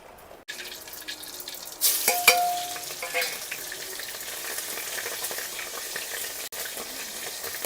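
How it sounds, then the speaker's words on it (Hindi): Dal tempering (tadka) sizzles and fries in a pan with stirring scrapes, a sharp hiss swelling as the spices hit the hot oil, then a steady crackling sizzle that continues at close range with no talk. "अब महाराज जी इसमें तड़का लगाएंगे थोड़ा।"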